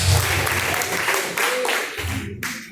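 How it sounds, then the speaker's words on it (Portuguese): A church congregation claps in praise to God during a live worship service, with loud, dense applause and voices under it that break off briefly near the end. "As palmas que louvam a Deus"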